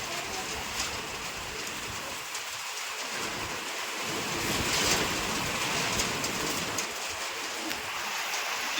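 Steady rain falls in a continuous broadband hiss that swells slightly midway, with faint bird calls scattered through the wash of noise.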